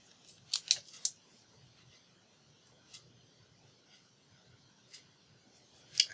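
Scissors snip through paper in a few sharp, quiet clicks, a quick cluster at the start followed by isolated cuts spaced a second or two apart in an otherwise silent room.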